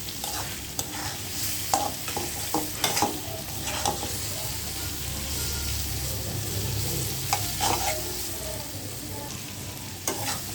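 Ridge gourd and egg fry in a pan with a constant soft sizzle, broken by irregular scrapes and clacks of stirring, close and moderately quiet with no talking.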